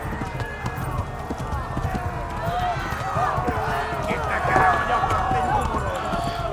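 Horse galloping in Kingdom Come: Deliverance during a chase, a steady rapid run of hoof thuds with faint whinnies, continuous and mid-distance under game music and ambient noise.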